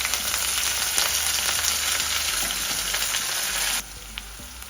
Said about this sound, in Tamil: வெங்காயம் கருவேப்பிலை சேர்த்தே போட்டுருவோம்.